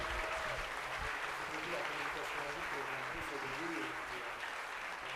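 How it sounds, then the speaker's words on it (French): Quiet, steady applause fills a room at a medical simulation competition, an even wash of many hands clapping at a distance with faint voices underneath. "Donc bravo, on peut les applaudir vraiment très fort"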